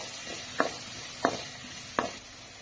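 A chopped medium-size tomato is sautéed in a pan, a soft steady sizzle beneath three evenly spaced sharp clicks of a spoon scraping and tapping the pan during stirring, with no voices.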